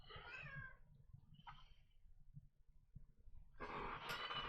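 A cat lets out two soft meows a second or so apart, fairly faint, before a louder burst of rustling noise close by.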